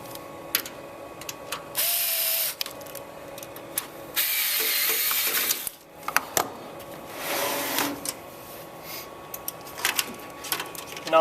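A power driver whirs in several short bursts, driving two screws to mount a PowerEdge 1800 power supply in its case, with clicks and handling noises between runs.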